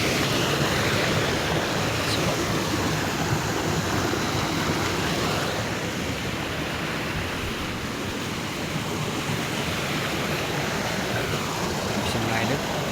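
Floodwater rushes through a swollen river, a dense, continuous roar of churning water that stays loud and even throughout, with no voices heard.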